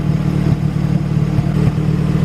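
Honda Civic Si with a swapped B18C1 GSR engine and Precision turbo idling steadily, a close, continuous low mechanical hum with a faint clattery texture and slight pulsing, no talking.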